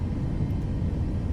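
Boeing 737 MAX engines in Microsoft Flight Simulator 2024 give off a steady, heavy low rumble, constant and fairly loud, with no other sounds.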